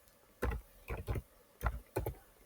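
A few keys are tapped on a computer keyboard to enter a command, with four short clusters of clicks close by, separated by brief pauses, in a quiet room with no talking.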